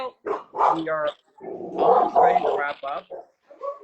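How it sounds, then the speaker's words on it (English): A dog growls and whimpers in short, close bursts, its sounds tangled with a person talking over it. "That's my dog."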